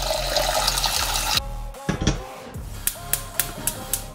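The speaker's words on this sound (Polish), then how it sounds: "Najpierw nalejmy do niego wodę." Water gushes from a kitchen tap into a cooking pot, a loud steady rush that cuts off, followed by a few clinks and thumps of the pot being handled.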